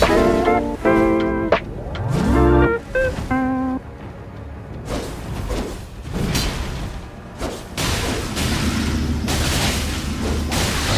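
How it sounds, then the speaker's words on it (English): Poison Moth Flight in Elden Ring triggers a heavy poison explosion during a combat invasion, with booming impacts and whooshing bursts layered over game music and clashing effects, the blasts loud and close in the second half. "You get that big poison explosion and it can hit for quite a decent amount of damage."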